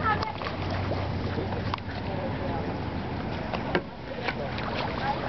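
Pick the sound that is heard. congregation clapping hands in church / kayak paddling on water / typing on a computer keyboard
kayak paddling on water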